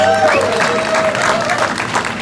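A rally crowd applauding and cheering, loud, dense clapping mixed with crowd noise throughout, close and sustained.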